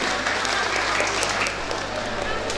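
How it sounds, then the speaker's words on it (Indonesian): An audience at a school farewell ceremony for Madrasah Aliyah Negeri 4 Kediri, Indonesia, applauds in a steady, dense burst of clapping that fills the hall without pause. "Mohon tepuk tangannya untuk Madrasah Aliyah Negeri 4 Kediri ini."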